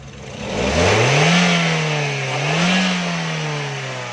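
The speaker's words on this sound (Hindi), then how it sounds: "रेस दें गाड़ी को।" A fuel-injected car engine, just after an ECU reset, revs up twice in smooth swells from idle, rising and easing back in a steady, close mechanical drone with no talking.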